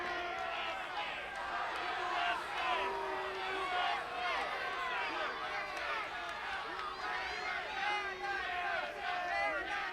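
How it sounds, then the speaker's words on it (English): A large wrestling arena crowd in Buffalo, New York jeers and blows raspberries at a wrestler, a dense, continuous wash of whistles, hoots and shouting voices. "A lot of raspberries from the crowd here"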